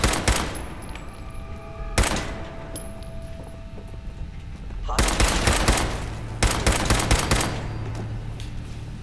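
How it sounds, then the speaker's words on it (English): Fallout 4 gunfight: dense, rapid bursts of automatic gunfire crackle in long volleys with brief gaps between them, loud and close, while someone talks intermittently underneath. "you don't realize you're being shot at till it's too late"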